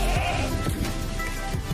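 Goats bleating nearby on a farm, a wavering animal call heard over steady outdoor background noise.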